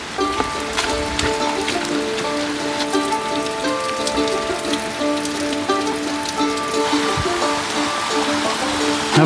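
Heavy rain falling in a Himalayan mountain village, a loud, steady drumming patter on surfaces with water running, and a few faint tones in the background.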